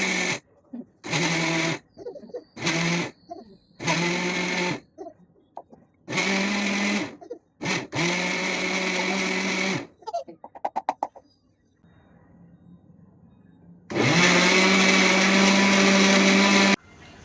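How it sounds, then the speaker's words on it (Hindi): An electric mixer grinder whirs loudly in repeated short bursts of varying length, followed by a quieter pause and then a longer continuous run. "अभी मैं जा रही हूँ मिक्सर चालू कर रही हूँ।"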